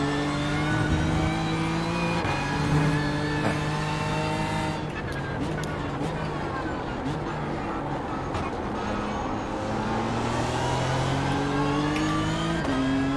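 A BMW race car roars past during a four-hour endurance race run as preparation for the Daytona 24h, its engine note sweeping steadily over a continuous blend of other racing engines, with faint speech in the background.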